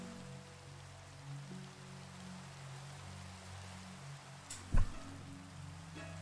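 Rain falling in the Minecraft video game, a soft steady hiss of rainfall at low volume under a quiet musical hum, broken by one brief thump near the end.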